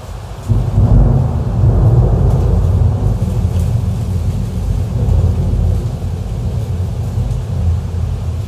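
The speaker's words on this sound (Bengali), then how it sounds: "আচমকা ঝড় অ্যান্ড বৃষ্টি চলে আসে" A sudden thunderstorm breaks with heavy rain, a loud continuous rumbling roar of thunder and downpour filling the scene without pause.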